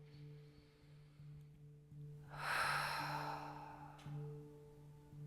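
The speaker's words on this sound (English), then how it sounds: "Inhaling and opening the mouth, exhaling." A single slow mouth breath during a yoga neck stretch, a soft breathy exhale swelling in the middle and fading, faint over a low steady hum.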